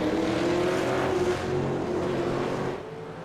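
V8 Supercar engines roar in an iRacing sim race at the Nurburgring GP, a continuous droning engine note with a slowly rising pitch, steady and fairly loud, fading slightly toward the end with no talk.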